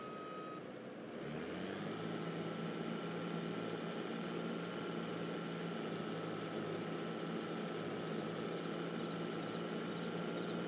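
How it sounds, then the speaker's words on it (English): A combine harvester's engine in Farming Simulator 22 starts up and settles into a steady, loud, droning idle with a constant hum that runs on unchanged. "Jump over to the harvester. We'll turn that back on."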